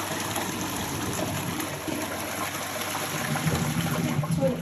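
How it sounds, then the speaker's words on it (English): Rushing, gurgling water from a flushing toilet, loud and close, swelling slightly toward the end with no talking. "Toilet flush is fine"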